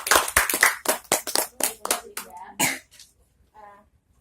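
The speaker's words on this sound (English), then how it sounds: "Give applause for Linda." Students clap in a classroom, a run of sharp, uneven hand claps that thins out over a few seconds before fading to near silence, with a faint voice near the end.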